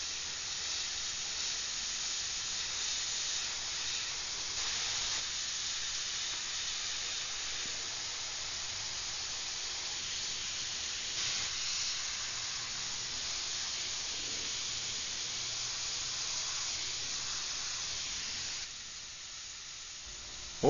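Airbrush spray painting on a cybergirl portrait, a steady close hiss of air and paint running almost continuously, briefly pausing near the end.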